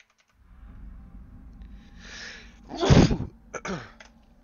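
A single sharp sneeze bursts out close by after a soft indrawn breath, followed by a smaller second sneeze, heard over a faint low hum in a gaming session.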